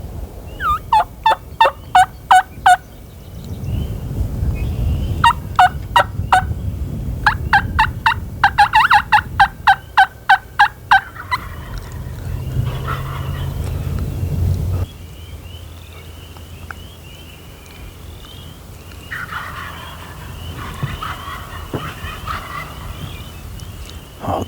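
Wild turkeys gobbling in spring woods, several loud rattling bursts in quick succession, then more gobbles further off against a faint insect and bird background.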